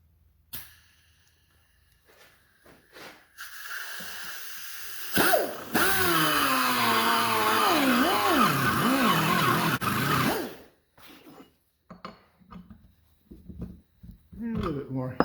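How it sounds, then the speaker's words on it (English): A die grinder opens up drilled holes in a steel trailer hitch extender for an RV tire carrier, giving a loud, close whine of about five seconds whose pitch wavers under load. Short bursts of shop noise and talk come before and after. "Die grinder."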